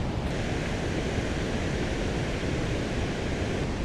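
A large, powerful waterfall roars as a dense, steady broadband rush, loud and continuous for the whole stretch with no talk.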